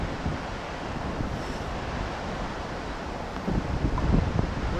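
Water rushes steadily at Hebbe Waterfalls in Kemmangundi, Chikkamagaluru, a continuous broadband roar mixed with wind buffeting the microphone, growing a little louder and rougher toward the end, with no voices.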